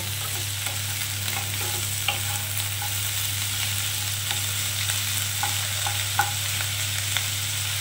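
Snails and onion frying in a pan with a steady, soft sizzle and occasional stirring scrapes and clicks, with a low constant hum underneath and no talking.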